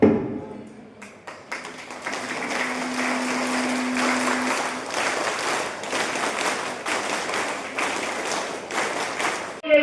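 An audience claps in sustained applause for about nine seconds at a Tamil public gathering, steady and fairly close, after a brief opening of talk.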